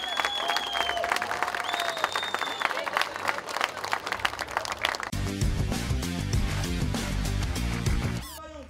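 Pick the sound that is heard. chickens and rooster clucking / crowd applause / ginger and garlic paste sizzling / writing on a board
crowd applause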